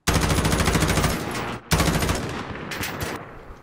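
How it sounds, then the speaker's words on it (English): Sustained automatic gunfire in Call of Duty multiplayer, a dense loud rattle of rapid shots, a brief pause, then another burst tapering off with scattered reports. "I'm gonna shoot through this."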